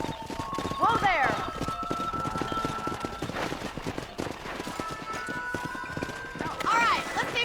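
Horse hooves clip-clopping in a steady, close rhythm throughout, with a couple of whinnies rising over them and people's voices mixed in.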